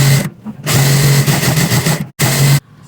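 A sewing machine stitching the side seam of a palazzo pant, loud close motor whir with steady rapid needle rhythm, running in bursts broken by brief stops, with no talk.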